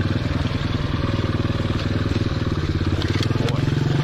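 A 2015 Motoped Pro 90cc motorbike engine runs close and loud with a steady, throbbing low chug throughout, plus a few faint rattles on top.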